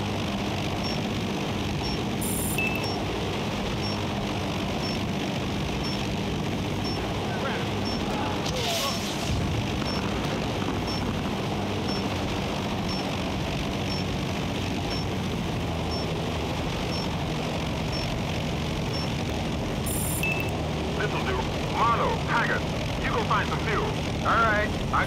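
A helicopter flies in the video game Battlefield: Bad Company as a continuous droning rotor and engine roar, with occasional brief bursts of game effects layered on top.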